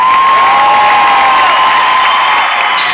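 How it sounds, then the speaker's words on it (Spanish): Concert crowd at a show applauds and cheers, a loud continuous roar of clapping and voices with high whistles and shouts throughout. "con un fuerte aplauso me conformo, ¿verdad?"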